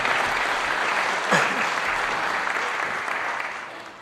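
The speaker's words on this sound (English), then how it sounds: "Give Richard a round of applause." A crowd applauds at a Republican primary debate for Texas House District 60, steady, dense clapping that holds even throughout and tapers slightly at the end.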